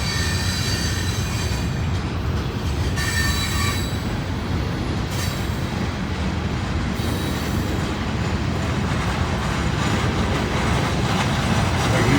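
A hi-rail vehicle rolls along a Norfolk Southern railroad track, a loud, continuous rumble of steel wheels on rail with thin high squeals rising and fading throughout.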